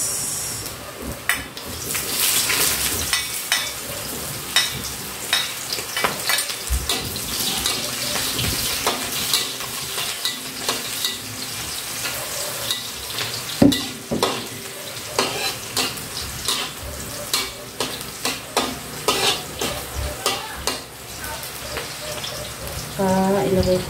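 Garlic and onion sautéing in a pan, with steady frying hiss and frequent utensil scrapes and clatters throughout, fairly close and busy.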